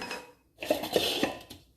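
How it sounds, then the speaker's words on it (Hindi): Pieces of cake dropped into a blender jar, a few light clattering knocks and rattles after a short pause, close and fairly quiet. "तो इसको मैं ब्लेंडर में डालूंगी यहाँ पे"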